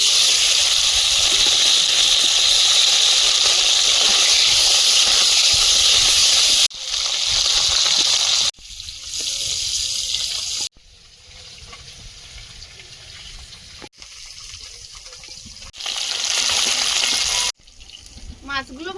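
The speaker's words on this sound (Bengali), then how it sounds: "এখন মাছগুলো লবণ হলুদ মিশিয়ে ভেজে নেব" Koi fish coated in salt and turmeric frying in oil in a hot wok, loud steady hissing sizzle that cuts in and out in sections, a voice faintly present.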